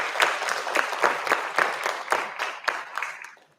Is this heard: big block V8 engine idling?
no